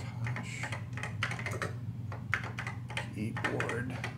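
Keys clack steadily on an original Macintosh keyboard connected to an iPhone X. The quick, close, uneven tapping continues over a low hum.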